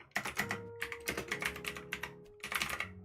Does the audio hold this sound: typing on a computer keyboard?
yes